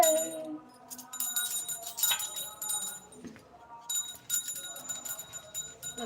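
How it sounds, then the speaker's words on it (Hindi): A small hand bell rings repeatedly in bright, clinking bursts during a Hindu Satyanarayan puja, with a voice and background activity mixed in between the rings. "घंटी बजा बजा मेरा बच्चा। बजाते रहो।"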